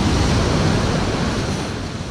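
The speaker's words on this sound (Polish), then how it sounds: "No, idzie ładna fala." Ocean waves breaking on the beach at Praa Sands, a dense, steady roar of surf with wind rumble, loud and close, fading slightly toward the end.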